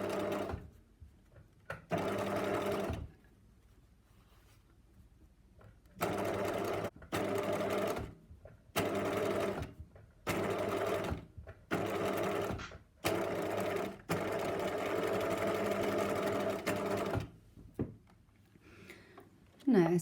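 Sewing machine stitching cord with a zipper foot, running in several bursts of a few seconds each separated by quiet pauses, heard up close and fairly soft.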